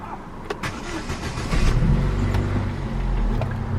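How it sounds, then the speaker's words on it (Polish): An Opel Signum's engine starts up, with a brief crank at first and then a steady, fairly loud low rumble settling in nearby with no talk over it. "zaczynamy od uruchomienia silnika"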